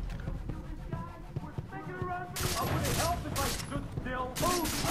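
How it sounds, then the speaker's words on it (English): Enemy gunfire in the shooter game Far Cry 3, a rapid spray of sharp shots breaking out midway and continuing in dense bursts, with someone talking over the combat. "He's trying to shoot us."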